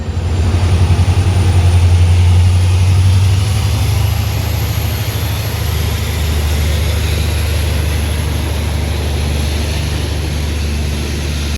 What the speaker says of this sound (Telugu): మన ట్రైన్ కూడా స్టార్ట్ అయింది.